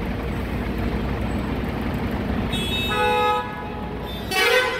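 Vehicle horns blare inside a road tunnel on the Kashedi route, a steady traffic rumble broken by a sustained toot midway and another sharp honk near the end, loud and echoing.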